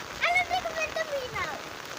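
Steady rain hisses softly, with a few faint high chirps rising briefly above the patter.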